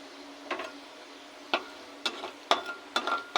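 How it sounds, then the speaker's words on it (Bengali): Black cumin seeds tempering in hot oil for a mankochu paste dish, giving a steady faint sizzle broken by several sharp crackles and pops spread irregularly through the clip, close by with no talking. "তেল গরম হয়ে গেছে, এবার দিয়ে দেবো কালো জিরে ফোড়ন"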